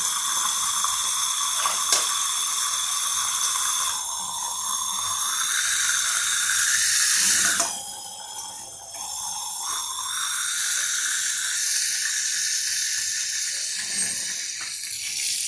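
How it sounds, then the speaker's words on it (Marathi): Dense, loud sizzling and crackling of mustard seeds popping in hot oil, a continuous fizzing hiss close up that eases slightly midway, no talking. "मोहरी तडतडली."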